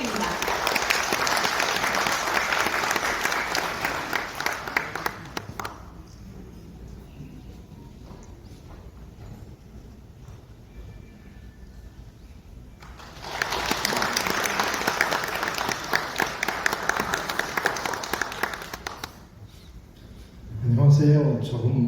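Two bursts of audience applause at an international academic forum in a Seoul hotel ballroom, several seconds of clapping each, separated by a quieter stretch with speech, then a voice at the end.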